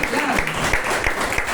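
A church congregation claps steadily through a service, the applause broad and continuous, with a voice speaking over it.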